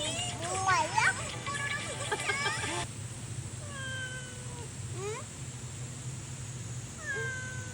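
A cat meows several times on a bus, close and plaintive, with children's voices chattering over the first few seconds before the cat continues alone.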